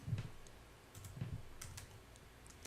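Computer keyboard keys pressed in a few quick clusters, with soft clicks and taps spaced across a short quiet stretch and no voices.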